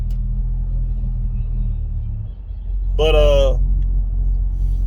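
Car engines rumble low and steady in city traffic as vehicles pull away at a green light, with a brief spoken word cutting in over the droning motor noise.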